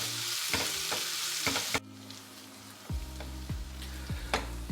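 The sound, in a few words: onions being stirred and fried in a pan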